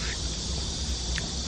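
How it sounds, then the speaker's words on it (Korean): Cicadas drone outdoors on a hot summer day, a steady, dense buzzing that fills the whole stretch without a break and with no voices over it. "매미소리 들리시죠 여러분?"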